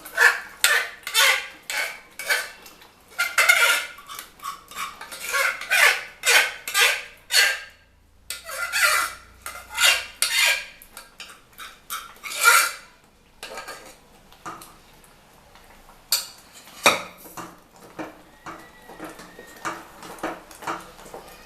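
Spoon scraping and clanking against a pan while moong dal halwa is stirred for Ashoka halwa, in rhythmic metallic strokes near and loud, with brief pauses between bursts.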